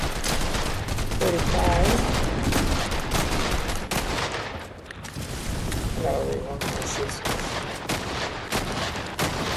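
Assault rifle gunfire in a Doomsday game mode of a shooter video game, dense rapid bursts and fusillades crackling continuously and loudly, with someone talking over the shooting.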